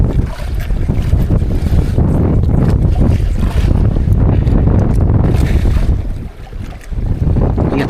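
Strong wind roaring over a small tuna-fishing boat on the open Pacific, loud, continuous buffeting across the microphone with the wash of waves beneath and no break in the noise.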